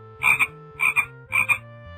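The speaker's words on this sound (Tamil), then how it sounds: "தவளை என்ன சத்தம் போடும்?" A frog croaks three times in a steady rhythm, each call a loud, close, double-pulsed rasp with short silences between, and no other sound around it.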